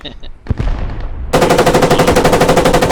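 A machine gun fires in the Squad 44 video game: a rapid, loud, evenly spaced burst of shots follows a few softer handling clicks and a thud.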